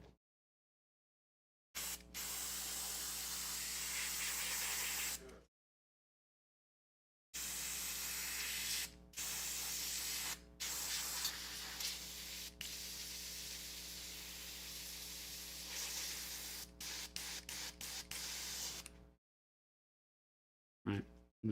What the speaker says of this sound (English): You don't want to force air through the airbrush until you get all of the paint out of it